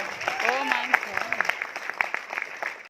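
Scattered applause from the audience at a live Hindi poetry show, a sparse patter of claps building under a speaking voice that continues over it.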